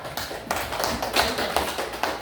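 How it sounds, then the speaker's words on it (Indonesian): A class claps for a group that has just presented, a short burst of quick, uneven hand claps heard close in a classroom. "Beri tepuk tangan kepada kelompok visual."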